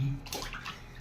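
Brief splash and slosh of bath water around a pet duck named Sugar, a short burst of splashing close by, with no talk.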